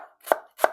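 A knife chops through a halved, peeled onion in two sharp, close strikes about a third of a second apart, each a crisp crunch followed by a brief thud, with silence between.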